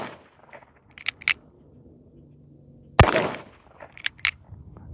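Chiappa Rhino revolver fired outdoors at a target around 75 yards away: one sharp, loud shot with a brief echoing tail, set among quieter clicks and handling noises before and after.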